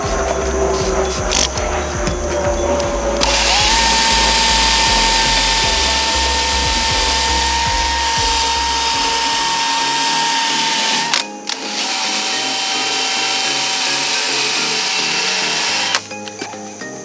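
A buzzing power tool wet sands a car headlight, running steadily and loud nearby, pausing briefly twice, with a low rhythmic pulse fading out partway through.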